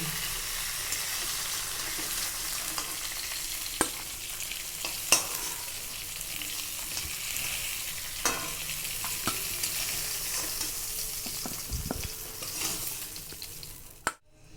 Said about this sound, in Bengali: এই দেখো, কালো জিরে ফোড়ন দিলাম, পেঁয়াজ কুচি, টমেটো কুচি দিয়ে দিলাম।